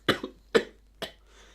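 A voice imitates coughing: three short, rough cough bursts, the first doubled, spaced about half a second apart and heard close up.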